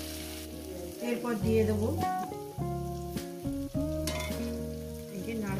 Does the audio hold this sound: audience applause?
no